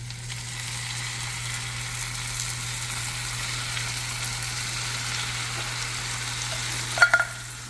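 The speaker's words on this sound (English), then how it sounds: "I got 2 right here, and I'm gonna add this into the onions now." Diced tomatoes tipped into a pan of sizzling onions, a steady close frying hiss with a couple of brief clinks near the end and no talking.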